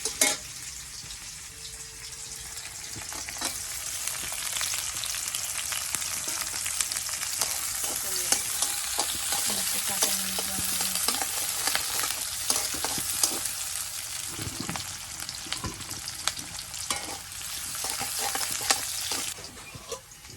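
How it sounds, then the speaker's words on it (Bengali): Raw onion and green chilli fry in hot oil in a pan, giving a continuous loud sizzle with frequent scraping and stirring taps from a spatula throughout. "কাঁচা পেঁয়াজ মরিচ দিয়ে প্রথমে একটু ভাজা ভাজা করে নেব"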